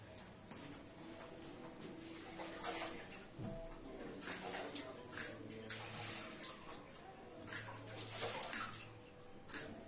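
Water runs and splashes softly while rinsing an eyebrow treatment, faint and uneven, with quiet trickles and occasional louder pours.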